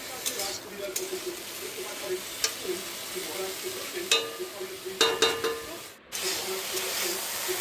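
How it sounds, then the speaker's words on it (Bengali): Banana stem pieces are stirred in hot oil. A steady sizzle runs under scattered scrapes and clacks of a spatula against the pan, and the scraping bunches up near the middle and end. "এবার ভালো করে তেলের সাথে ফোড়ের টুকরোগুলো মিশিয়ে নিতে হবে"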